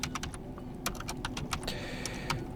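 Rapid keystrokes on a computer keyboard as Linux commands are typed, a quick irregular run of close, crisp clicks over a faint background hum, with no talking.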